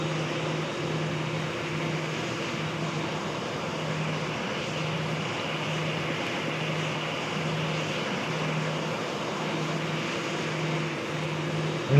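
An airliner taxiing in Roblox Project Flight gives a steady engine drone with a constant tonal hum, holding an even level throughout with no talk.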